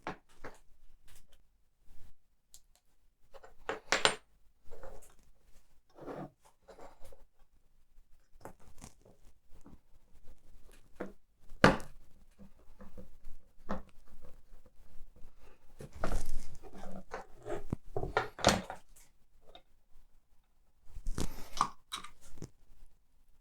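Screws tightened into a 1:8 scale 1965 Shelby Cobra 427 S/C model kit: faint scattered clicks and scratchy scrapes with irregular louder bursts, close up and without talk.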